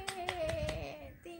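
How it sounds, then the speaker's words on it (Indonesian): Several sharp hand claps ring out in a quick uneven burst from children clapping indoors, heard close, with a sung or spoken voice tone running underneath. "Tepuk tangan dulu dong."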